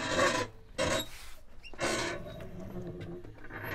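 Scopema seat swivel being rotated, giving a few scraping, grinding rubs in short bursts with pauses between, close and moderately loud, ending in a softer, longer scrape.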